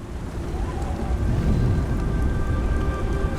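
Steady rain pours down in Beyond: Two Souls, a dense hiss with a low rumble underneath, constant and fairly loud throughout.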